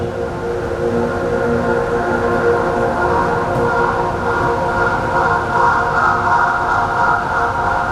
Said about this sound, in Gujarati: ટ્રેનના પૈડાનો ધમધમાટ પણ સંભળાયો